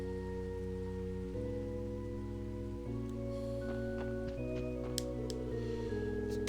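Steady rain falls over a city in the video game Trails to Azure. A soft, even hiss runs continuously beneath prominent sustained game music, with a couple of faint tick-like drops.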